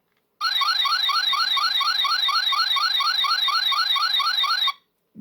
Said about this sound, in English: This button is supposed to represent like a alarm sound or a communication.